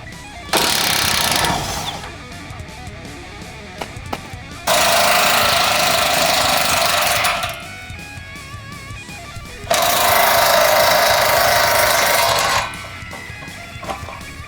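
Impact tool removing the rear bumper nuts on a 2004 Jeep Wrangler TJ, three loud bursts of rapid hammering each lasting a few seconds, separated by quieter pauses.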